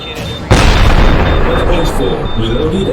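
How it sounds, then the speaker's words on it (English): A particle cannon fires in the mech video game Project Nimbus, a sudden heavy boom that erupts after a brief quieter lead-in and then rumbles on as a loud, sustained explosive roar. "Particle cannon."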